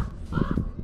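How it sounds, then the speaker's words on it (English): A crow caws a few times at moderate distance, the calls low and harsh, heard outdoors beside a parked 2023 BMW XM with faint background noise. "Damn birds."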